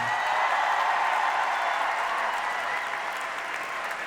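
A large theater audience at the Grand Rex in Paris applauds steadily and loudly during an anniversary ceremony, a dense continuous wash of clapping that holds at full strength throughout.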